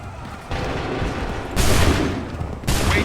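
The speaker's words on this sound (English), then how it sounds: "Open fire." Musket volleys crack out in Assassin's Creed 3, three loud broadband rolling bursts of massed gunfire stepping up in loudness, each ragged and sustained over battlefield noise, with no speech.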